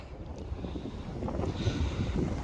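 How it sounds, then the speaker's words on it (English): Steady, rumbling wind buffets the microphone outdoors by a canal lock, a low roaring gusty noise with no voices. "Sorry, it might be a bit windy."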